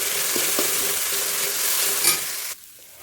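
Onions sizzle loudly in hot oil with browned garlic and ginger for a chicken curry, a steady broadband fry with a few soft stirring knocks, cutting off sharply near the end to near silence.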